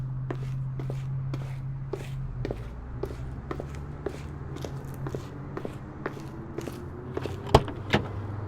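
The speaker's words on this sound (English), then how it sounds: "I've added a touch of reverb to the footsteps, added some street noise, a car door sound," Reverberant footsteps fall at a steady walking pace over low street noise and a humming car, with a car door sound mixed in, a layered sound-effects mix with no talking.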